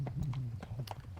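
A young horse being started under saddle lopes in a steady three-beat rhythm, hooves thudding on the ground with a low rumble beneath, fairly quiet and without talk.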